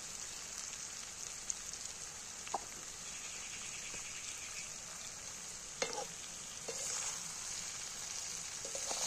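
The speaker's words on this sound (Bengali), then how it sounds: "লবণ দিয়ে মা আবার সুন্দর করে নাড়িয়ে চাড়িয়ে নিচ্ছে এখানে।" Mango pickle stirred in oil with salt in a pot, a steady hissing sizzle with faint scrapes and occasional clicks of the spoon, close but quiet.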